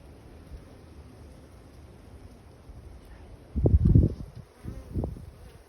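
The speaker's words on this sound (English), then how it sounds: "I can see all of the bees on this hive, on this frame I mean." A low buzzing hum of honey bees on a hive frame is heard faintly, with a few louder close bursts of noise toward the end.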